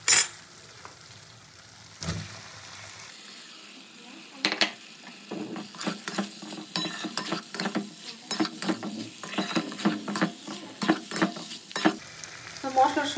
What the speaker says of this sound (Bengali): মশলার সঙ্গে মাশরুম আর আলুটা কিন্তু খুব ভালো করে কষিয়ে নিয়েছি।